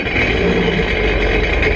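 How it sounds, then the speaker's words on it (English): A 2018 Sea-Doo GTX Limited 300 personal watercraft engine running right after starting, a loud, steady close-up drone with no talk. "with the Seadoo, they recommend that you start the engine and then you can turn the water on."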